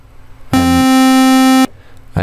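A synthesizer note switched fully on and off with full sustain and zero release, sounding as one loud, steady, bright harmonic tone held about a second and cut off abruptly.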